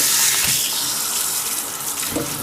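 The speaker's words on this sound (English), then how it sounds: "So let's get the water going here." Water gushing steadily from a tap into a sink before rinsing rhubarb, a loud continuous hiss with splashing close by.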